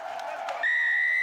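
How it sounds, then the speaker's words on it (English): Rugby sevens fans at Nakuru Athletic Club cheering in a crowd, followed by a sharp, sustained whistle blast that cuts through the noise. "Much to the applause of the fans here at the Nakuru Athletic Club"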